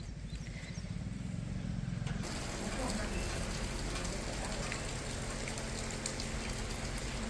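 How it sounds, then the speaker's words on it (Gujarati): Heavy afternoon rain pours down steadily in a dense, broadband hiss that thickens after the first couple of seconds, with patters of drops on a surface near livestock. "વરસાદ શરૂ થઈ ગયો છે અને એ પણ જોર પકડી લીધું છે"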